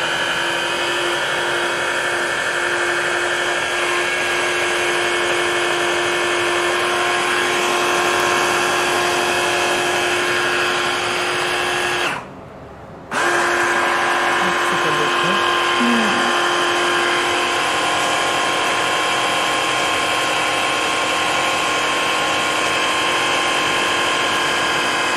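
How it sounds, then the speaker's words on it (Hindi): Blender whirring steadily with ice cubes in a home kitchen, a loud continuous motor drone that cuts out briefly midway before restarting, with no voices. "तो अब हम 2 आइस क्यूब्स इस्तेमाल करेंगे। अब दोबारा से ब्लेंड कर लेंगे।"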